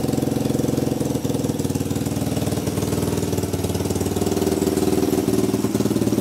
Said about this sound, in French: J'ai bouché la fuite qu'il y avait là, c'est un poil moins de bruit, mais c'est pareil.